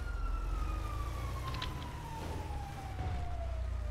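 A police car siren in a FiveM GTA roleplay game wails with a slowly falling tone over a steady engine rumble, loud and near.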